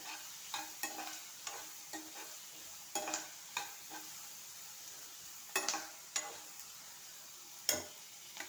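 Cashew nuts, ten to twelve of them, being sautéed in a pan for a paneer butter masala, with a soft sizzle under repeated sharp clicks and scrapes of a spoon stirring close by, no voices.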